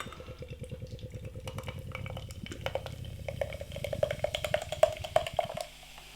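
Cape gooseberry and yuzu gose beer pours steadily into a glass, a gurgling splash with light clinks and a rising fill sound, close up and with no talking.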